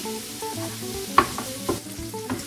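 Crumbled sausage browning in a pan for a Tuscan-style dish: a close, steady sizzle broken by a few sharp spatula scrapes and stirring knocks, over soft background tones.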